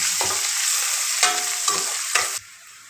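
Thinly sliced onions and four green chillies fry in a pan, a loud steady sizzle broken by several scraping stirs before it suddenly drops away near the end.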